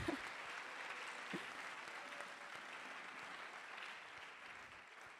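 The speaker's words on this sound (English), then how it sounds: "Thank you for clapping." Audience claps at a youth declaration event on education, giving steady, even applause from many hands that sounds distant and faint and carries on for several seconds with no talk.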